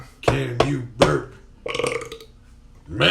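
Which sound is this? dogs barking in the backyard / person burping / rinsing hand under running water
person burping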